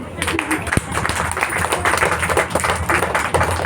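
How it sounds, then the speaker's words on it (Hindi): A church congregation at a Christmas service claps hands together, a dense continuous wash of applause with a voice audible over it. "तो नींद में से भागने के लिए ताली बजा लेंगे।"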